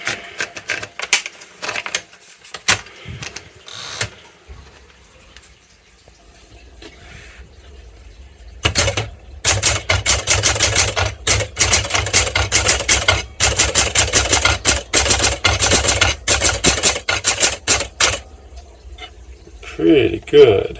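A Smith Corona Sterling manual typewriter being tested: a few scattered keystrokes, then a sustained fast run of sharp, close clacks, ending with a carriage return sound.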